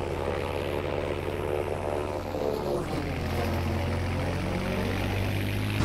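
A Mustang P51K fighter plane in Battlefield V on the Twisted Steel map, its propeller engine droning steadily and loudly throughout, with a slight shift in pitch partway through and no talking.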